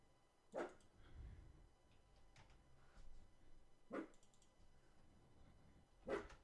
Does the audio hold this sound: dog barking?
yes